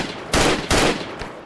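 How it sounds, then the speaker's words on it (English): Enemy gunfire in a military shooter video game: two loud, sharp bursts close together, followed by a fainter third shot. No voices. "That's the guy shooting at us."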